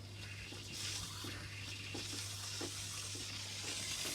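Fertilizer injector pulling nutrient solution into a strawberry irrigation line outdoors, a steady faint hiss of water flowing through tubing with a low constant hum beneath and soft clicks scattered throughout.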